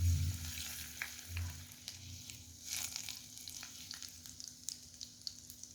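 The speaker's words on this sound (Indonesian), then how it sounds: "tumis jahe, bawang putih hingga warnanya kuning dan baunya harum" Low sizzling of ginger and garlic sautéing in a pan, steady crackle with occasional sharper pops and faint stirring, no voices.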